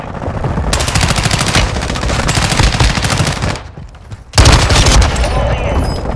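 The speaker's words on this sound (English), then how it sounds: "Friendly mortar strike inbound." Heavy automatic gunfire and explosive mortar strike blasts in Warzone 2 on Ashika Island rattle in long rapid bursts, drop briefly near silence, then resume with a loud boom and renewed firing.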